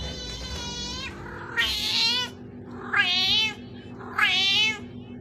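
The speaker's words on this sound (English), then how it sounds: "This is a cat with a Scottish accent" Cat meowing in three or four drawn-out, wavering calls spaced about a second apart, close and clear against quiet background noise.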